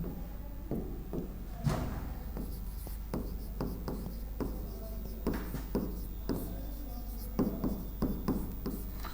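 Chalk or marker writing on a board during a Hindi lesson, a string of short scratchy strokes and taps in uneven bursts over a low steady hum, fairly close.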